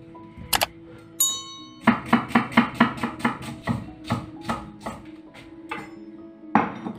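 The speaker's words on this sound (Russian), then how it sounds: "Для начинки мне понадобится головка репчатого лука массой 100 грамм. Ее я нарезаю мелким кубиком." A kitchen knife dicing an onion head into small cubes on a board, a quick run of close, crisp chopping knocks followed by slower scattered cuts and a light clink.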